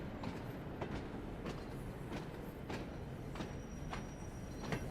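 A steam locomotive rolls steadily in the Train Sim World 2 game, with a constant rumbling run and regular rhythmic clicks and chuffs repeating about every second.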